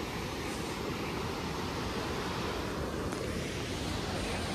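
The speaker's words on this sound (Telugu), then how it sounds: "వాటర్ ఫాల్స్ మాత్రం సెట్ ఉంది ఇక్కడ" Waterfall on the Kedarnath trek, a steady broadband roar of falling water blended with wind, continuous and fairly loud throughout with no voices.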